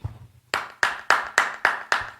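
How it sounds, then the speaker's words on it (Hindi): Clapping during a church sermon, with six sharp, evenly spaced loud claps in a steady rhythm after a brief low murmur. "यहां पे ताली तो बचती है।"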